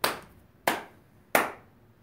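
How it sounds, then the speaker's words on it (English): Hands clap three times in a row, sharp and close, spaced evenly about two-thirds of a second apart with quiet between each. "have them clap 3 times"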